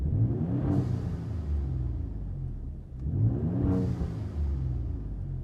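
Truck exhaust with aFe equal-length catless downpipes, heard from inside the cab with windows closed: a low, steady rumbling drone that swells in two revs, loud and close, with no talking.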